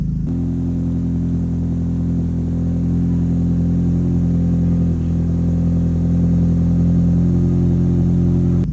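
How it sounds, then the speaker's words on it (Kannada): Honda City car engine revving loudly, a steady close, heavy mid-range drone that holds throughout with slight swells in pitch, no voices. "ಇಂಜಿನ್ ವಾರ್ಮ್ ಆಗಿಲ್ಲ ಅಂದರೆ ತುಂಬ ಲೌಡ್ ಹಾಕ್ಸ್ಕೊಂಡು ಬರ್ತೀನಿ"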